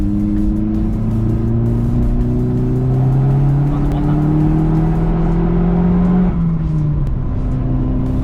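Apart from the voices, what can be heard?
turbocharged car accelerating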